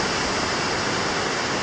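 Water pouring over a river weir: a steady, loud broadband rush of flowing water, continuous and unbroken, close by, with no voices.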